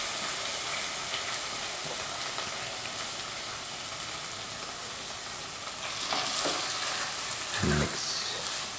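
Macaroni goes into a pan of sizzling chicken for chicken pasta, a steady frying hiss running throughout with a brief scrape or clatter of stirring near the end, no voices.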